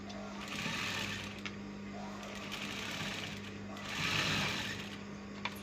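Sewing machine stitching two garment pieces, front and sleeve, together notch to notch, running in a steady mechanical hum with rising and falling bursts of speed and a voice faintly audible behind it.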